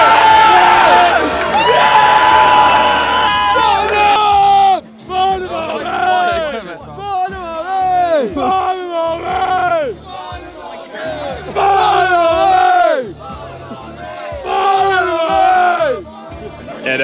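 A large crowd at a non-league football match in Farnham chants and cheers loudly in rhythmic unison, voices rising in repeated sung phrases like "We love you, Farnham" with brief pauses between bursts.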